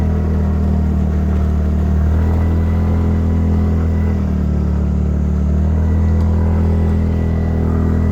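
A scooter rides a rough mountain road in Himachal, its engine a loud, steady, close drone with a constant low rumble throughout and no voices.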